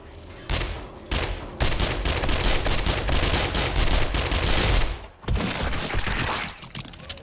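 Dense, rapid bursts of gunfire and blasts in the game 7 Days to Die, loud and continuous, with an explosion and a brief drop near the end before the barrage resumes.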